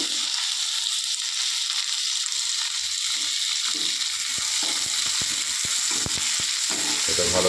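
Tomatoes and green chillies fry in rice oil, a loud close sizzle running steadily, with spatula stirs and scrapes clicking in more often toward the end.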